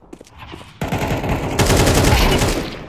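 AWP rifle fire in Counter-Strike 2, a sharp, loud shot followed by dense, close gunfire that swells into a sustained crackling barrage.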